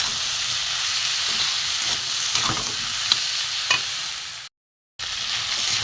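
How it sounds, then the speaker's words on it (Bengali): Salt, turmeric, chilli, cumin and coriander powders with grated ginger sauté in a hot pan for a taro, potato and prawn curry, giving a steady, close, dense sizzle that cuts out briefly near the end before resuming. "মশলা গুঁড়ো একটু ভালো করে কষাবো"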